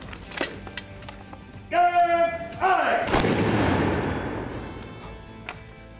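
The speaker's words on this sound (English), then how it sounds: "With the match set, the weapon is now ready to fire." A single loud matchlock musket shot booms and rolls away into a long fading echo, preceded by a brief metallic ringing tone and scattered clicks.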